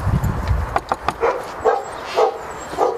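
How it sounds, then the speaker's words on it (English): A dog barks several times in short, sharp bursts, fairly close, with brief gaps between each bark and some low rumbling noise at the start. "Dog."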